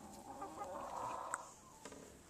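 Chickens in a winter coop cluck softly and steadily at a moderate distance, with a faint murmur of fowl and one brief sharper squawk amid the low background.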